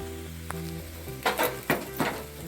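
Potatoes frying in a pan for crispy poha aloo tikki, a steady close sizzle with bursts of louder crackling as the mixture is stirred and scraped, no talking.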